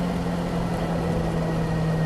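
A Honda motorcycle being ridden at an easy pace, its engine a steady, even hum with a constant droning tone and rushing wind, unbroken for about two seconds.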